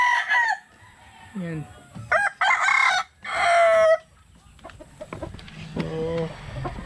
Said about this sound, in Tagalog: Meron siyang hatch gray na pulit.